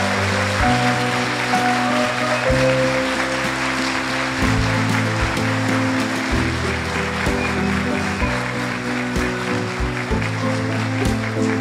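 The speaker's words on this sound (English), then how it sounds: "a rousing round of applause for these scholars." An audience applauds scholars at a state recognition ceremony, sustained clapping from a large crowd that holds steady throughout, with an electronic musical tone pattern running beneath it.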